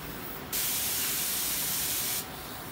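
A spray gun applying white lacquer to maple kitchen cabinets, one steady close hiss of spray lasting under two seconds against a softer background hiss.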